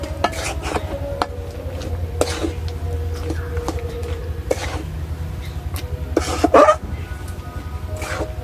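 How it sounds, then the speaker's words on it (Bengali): A peanut brittle (badam patali) mixture is stirred in a pan, with scattered scraping and knocking strokes of the spoon against the metal, plus a few sharper clatters, over a low background hum. "ভালো মতো নাড়তে হবে।"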